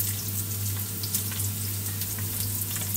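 Carrots fry in a pan for Filipino pancit, a continuous close sizzle with light stirring and scraping over the hiss.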